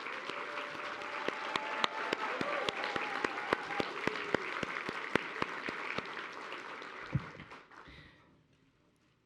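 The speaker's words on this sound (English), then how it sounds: "Let's give all our 2024 Teacher and School Leader finalists a round of applause" An audience in a hall applauds the 2024 teacher and school leader finalists at an awards celebration, a sustained crowd clapping that holds steady for several seconds, then thins and fades out.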